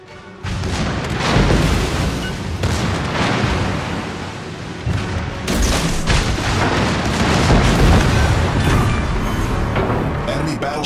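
Loud, continuous booms and rumbling artillery fire from battleship combat in the naval game Dev Strikes and Krakens, with repeated heavy blasts layered over one another and a game announcer's voice mixed in.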